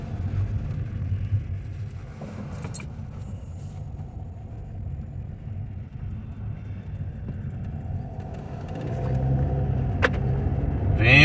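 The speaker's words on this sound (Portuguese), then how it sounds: "Venho com o meu carro." A car slowly approaching and rolling up, a low engine rumble that stays steady and grows nearer toward the end, with occasional faint clicks and no talking.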